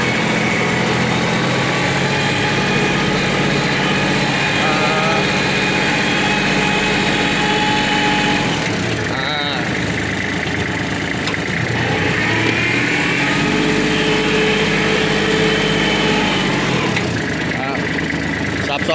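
A Kubota L3408 tractor engine runs in second gear on the rabbit (high-range) sub-gear, a loud, steady close drone that shifts in tone partway through, with someone talking over it.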